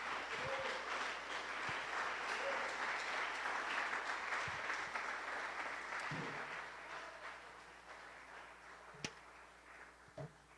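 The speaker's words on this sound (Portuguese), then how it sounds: "Vamos aplaudir de novo, Senhor Jesus." A church congregation applauds during a worship service, the broad steady clapping filling most of the stretch before tapering off into quieter room sound with a few sharp knocks near the end.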